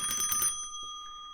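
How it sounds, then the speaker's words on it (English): A shop counter service bell rings with a bright, sustained metallic tone that decays slowly, preceded by a brief burst of busier ringing; nearby and fairly clear, with no talk over it. "Do you remember old-fashioned shops where they had the bell?"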